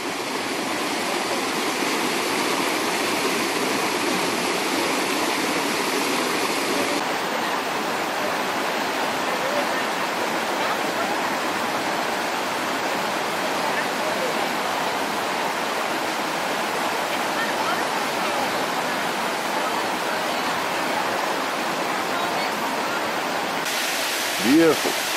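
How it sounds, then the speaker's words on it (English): A small waterfall outdoors, beside a road, rushes in a constant, dense roar of falling water that stays loud and unbroken throughout. "Beautiful little waterfall."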